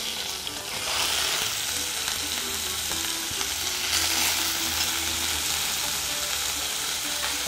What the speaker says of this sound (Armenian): Եվ միսը տապակենք